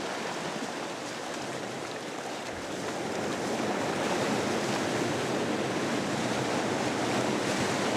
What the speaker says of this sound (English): high waves often carry new material to the shore